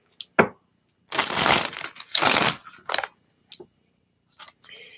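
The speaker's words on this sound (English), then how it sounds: "now that I have shuffled these decks" Tarot card decks shuffled by hand, coming in a few dense papery riffling bursts with light crinkly taps and pauses between them, close and fairly quiet with no talk.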